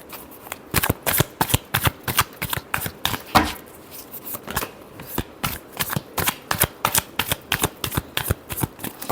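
Tarot cards being shuffled by hand in rapid, rhythmic riffles, a dense run of crisp papery flutters and snaps, close and clear with no talking.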